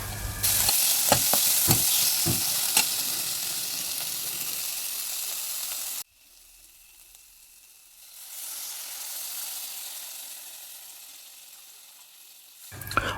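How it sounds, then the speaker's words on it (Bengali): Spice masala with shahi garam masala sizzles loudly in a pan while a spatula scrapes and taps a few times. After about six seconds the sound drops abruptly to a much quieter, fading hiss. "এটাকেও একটু ভালো করে নাড়াচাড়া করে জল দিয়ে দেবো"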